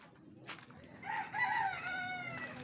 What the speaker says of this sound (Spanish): ¡Ya llegó el gallo que manda!